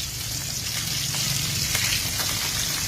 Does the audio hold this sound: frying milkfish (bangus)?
yes